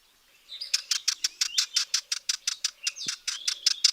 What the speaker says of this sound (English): Let me find a better recording of Sardinian warbler so you can hear what they sound like.